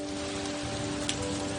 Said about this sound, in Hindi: बारिश का यह जो नज़ारा आप अपने स्क्रीन पर देख रहे हैं, यह जम्मू कश्मीर के ऊधमपुर का है